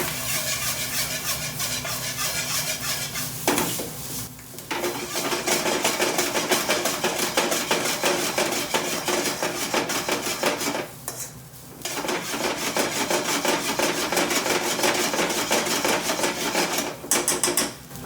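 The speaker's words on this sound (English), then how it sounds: "All I've done is just give it a shake, turn the spoon around, and everything all the rice has been coated in the spices." A spoon mixing mushroom pilau rice with spices in a metal pan makes rapid, busy scraping and clinking, running almost continuously with two short pauses, close and fairly loud.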